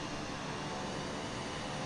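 A Cirrus Vision Jet passes nearby in Microsoft Flight Simulator 2024, making a faint, steady, broadband jet roar that holds evenly throughout with no voices.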